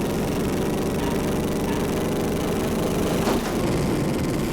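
A Formula 1 car's engine drones steadily in a racing game at Goodwood, a continuous buzzing note held flat-out and loud for the whole stretch, with a brief sharp blip near the end and no voices.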